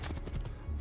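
A white horse's hooves in the video game Assassin's Creed 2 beat out a quick run of muffled clip-clop steps, close and steady, with no talking.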